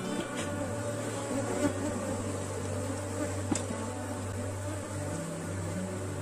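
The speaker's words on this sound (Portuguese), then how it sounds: "Olha só como ainda tem muitas abelhas." Honey bees at an opened hive during a colony split, producing a constant, soft droning buzz with a few individual insects passing nearer.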